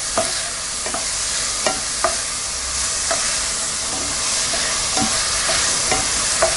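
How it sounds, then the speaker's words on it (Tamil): Finely chopped onions fry with cumin in oil for black urad dal, giving a steady sizzle while a spoon stirs them with regular scraping clicks about every second. "பொன்னிறம் ஆகிற வரைக்கும் நல்லா ஃப்ரை பண்ணிக்கலாம்."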